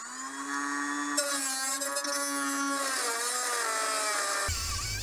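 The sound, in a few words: Dremel rotary tool cutting a seized nut on Peugeot 309 fuel tank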